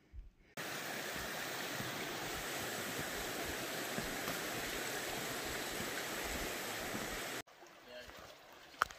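Rushing river water along the Appalachian Trail, a steady broadband flow that holds loud and constant for about seven seconds before cutting away to quieter outdoor sound with faint handling noises.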